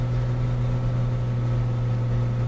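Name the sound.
flight simulator aircraft engine running rough, fouled spark plugs, from a video game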